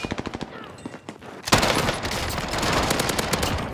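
Heavy gun firing in a video game: a fast run of close shots, then a loud, dense stream of continuous automatic fire that does not let up.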